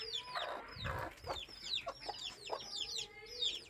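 Several chickens cluck repeatedly in quick, overlapping calls, close by and fairly quiet, with no talking.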